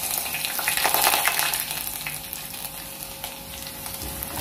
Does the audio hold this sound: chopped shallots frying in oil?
yes